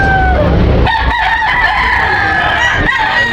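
A rooster at a rooster sale crows loudly and close, long drawn-out calls rising over a busy background, with other fowl calls and a short second crow near the end.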